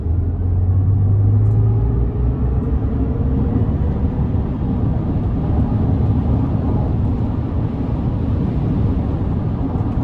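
A 2024 Chevrolet Silverado EV 4WT electric pickup pulls hard at full throttle, heard from inside the cab as a loud, steady low rumble of road and drivetrain noise with a faint rising whine fading after the first seconds.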